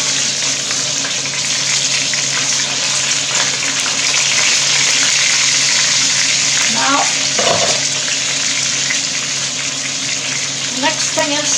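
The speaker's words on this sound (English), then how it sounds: "Next thing is you just fill it up with boiling water." Loud, steady hiss and crackle of boiling water poured into a hot oily pan of browned sauerbraten meat, with a continuous rushing pour and sizzling throughout.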